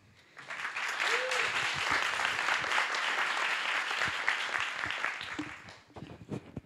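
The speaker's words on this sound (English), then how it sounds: "A round of applause for everybody." An audience at a live bio summit event breaks into applause, building quickly and holding as a dense wash of clapping before thinning out near the end, with a few voices faintly mixed in.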